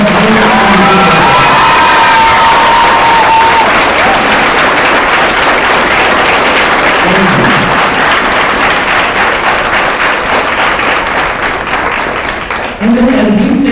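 A loud, roaring crowd at a school awards program applauds and cheers: continuous heavy clapping mixed with whoops and shouts, including children's voices, staying intense throughout before dipping briefly near the end.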